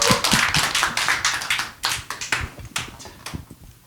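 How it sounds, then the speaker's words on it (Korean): Crowd applause with dense, crisp hand claps rising and falling in waves, close and fairly loud, no voices over it. "한 번만 더 큰 박수 부탁드리겠습니다"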